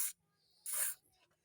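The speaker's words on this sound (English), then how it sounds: "I will spray some in here, in between the cam lock on the shaft." Two short bursts of WD-40 spray with white lithium grease aimed between the cam lock and auger shaft of a Honda snowblower, a brief hiss followed by a longer, louder one, close to the microphone with no talk.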